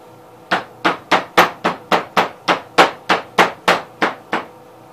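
Twelve sharp, evenly spaced hammer blows ring out one after another as a tin retaining washer from a 1987 Gravely 12G spindle shaft is flattened, each strike loud and close with a short metallic decay.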